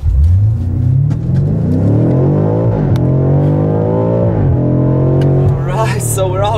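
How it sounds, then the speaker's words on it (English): A 2018 BMW M5 F90 accelerating hard from standstill to 100, its engine note climbing steadily through the revs with a brief dip at a gear change, then rising again; loud, close, in-cabin rumble. "So we're now going to try the 0 to 100 test real quick."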